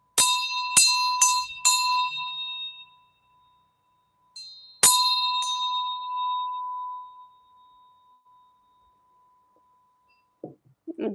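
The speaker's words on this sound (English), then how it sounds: "dinging the bell can seem a little bit weird" A small bell dinged for a Diwali blessing: four quick bright strikes, a single lone ding, then one more strike left to ring out and decay, close and clear, with faint rustling at the end.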